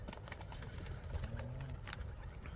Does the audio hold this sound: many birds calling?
yes